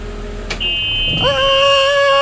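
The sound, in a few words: bus alarm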